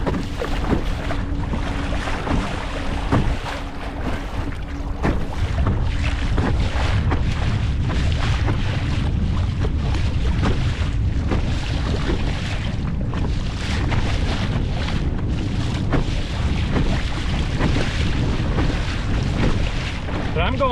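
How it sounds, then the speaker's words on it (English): Steady wind and choppy waves buffet a Sea Eagle RazorLite inflatable kayak driven by a Bixpy skeg motor into a roughly 12 mph headwind, a constant loud rush with irregular slaps and bumps throughout. "And again, the wind, it's a good 12 miles per hour."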